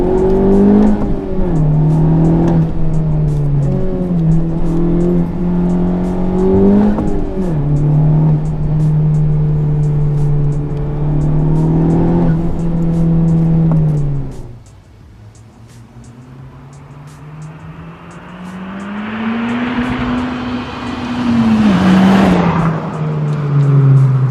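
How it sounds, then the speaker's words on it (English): A Honda Civic Type R engine revs hard in gears, its tone climbing and dropping with shifts, then a brief lull before it pulls strongly again, loud and close with no talk. "Take a little feel of this engine one more time. Shift into second and hammer on."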